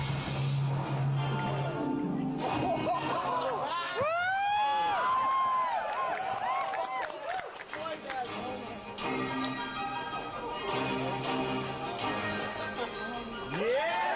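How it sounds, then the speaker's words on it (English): Crowd cheering at a Super Smash Bros. reveal presentation, a loud sustained roar of many voices that carries for the whole stretch, mixed with game music and announcer-style talk. "How much you want to bet the people cheering right there were because they thought Ridley was going to be in the game"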